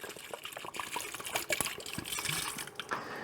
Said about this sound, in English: So I'm just going to use a bottle of water for now